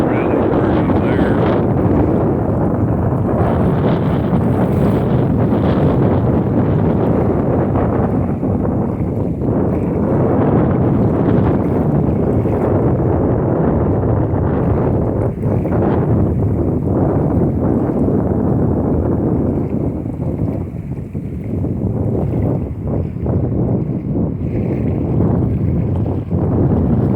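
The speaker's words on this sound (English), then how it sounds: "Boy, yeah, it's windy." Strong wind roars steadily across the microphone at sunset on a warm, gusty Christmas Eve, a loud broadband rush that barely eases for nearly half a minute.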